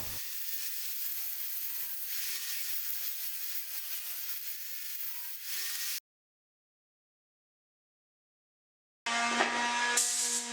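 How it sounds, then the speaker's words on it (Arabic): A table saw rips wood for a dining buffet in a long continuous cut, then goes silent for a few seconds before a louder burst of sawing resumes. "بعد كده هنشقها على منشار الطاولة"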